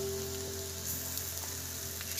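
Ground coriander, green chili and chopped ginger fry softly in a pan for spicy jeera aloo, a faint, steady sizzle with light patter and a small scrape near the end.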